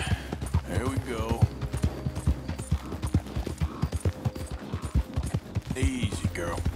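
Horse hooves clip-clopping at a gallop in the open-world western video game Red Dead Redemption 2, a quick steady drumming rhythm running throughout with faint game ambience around it.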